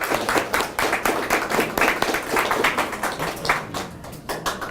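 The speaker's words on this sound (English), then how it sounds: "So let's give yourselves a round of applause." A crowd of students at a school attendance award ceremony applauds, a dense, continuous patter of many hands clapping at once, loud and sustained, with no one speaking over it.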